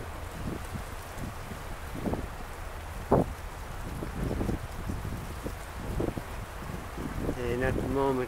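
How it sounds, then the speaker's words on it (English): Brisk wind buffets the microphone at a harbor with boats, a steady low rumble with gusty swells and occasional knocks, while a voice speaks briefly near the end. "The wind is quite brisk."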